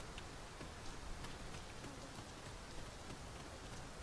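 Rain falls steadily in the video game Dragon's Dogma II, a dense, even hiss of drops with occasional soft ticks and no voices.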